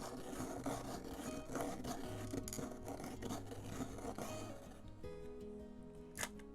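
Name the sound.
pencil being sharpened by turning a sharpener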